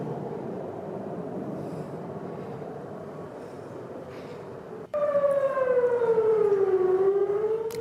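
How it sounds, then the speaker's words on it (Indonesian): An air raid warning siren sounds over Tel Aviv, a low steady background wail before a loud, close siren blast cuts in at about five seconds and holds with a slowly falling, wavering pitch to the end. "Sirine peringatan serangan udara dibunyikan memaksa warga Tel Aviv untuk berevakuasi"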